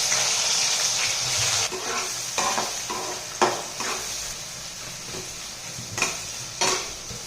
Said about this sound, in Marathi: त्याच्यामध्ये मी आता कांदा भाजून घेत आहे